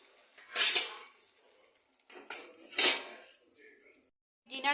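Metal pot being covered with its lid after the gas is switched off on a Punjabi sarson ka saag, giving a few clattering metal knocks and scrapes spread over several seconds, close and moderately loud.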